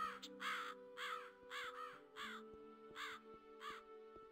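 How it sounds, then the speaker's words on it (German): A crow caws loudly in the video game Gothic 2, about eight harsh, evenly spaced calls over a steady low ambient game drone. "die Krähe. Warum ist sie so laut?"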